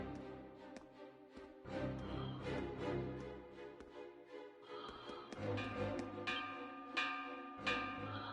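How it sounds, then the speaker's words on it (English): Warning bell in the video game Ys IX: Monstrum Nox: a series of faint metallic strikes with ringing tails, spread across a busy, low-level game soundtrack, with no talking. "It's the warning bell."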